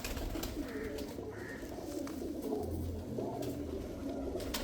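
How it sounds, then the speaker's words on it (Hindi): Lal Pari pigeons coo softly with low, throaty murmurs, close by over a faint background hum. "ये कबूतर होते हैं जो हम लाल परियों में डालते हैं"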